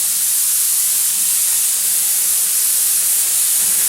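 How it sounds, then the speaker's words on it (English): An airbrush sprays paint with a steady, unbroken hiss of air that holds at an even level throughout. "I have the blue already mixed up in an airbrush"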